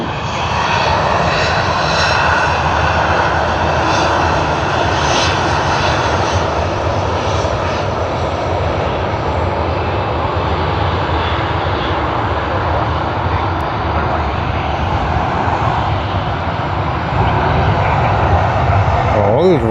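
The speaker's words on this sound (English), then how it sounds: "QF4 from Auckland on the 787-9 Dreamliner is here" A Qantas Boeing 787-9 Dreamliner jet at Sydney Airport, a loud, sustained engine roar that holds steady and near for the whole stretch, with a voice faintly present beneath it.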